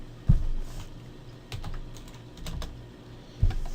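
Someone types code on a computer keyboard while writing a C# program, giving a few scattered soft keystrokes and a couple of sharper clicks, close and fairly quiet, with no talk.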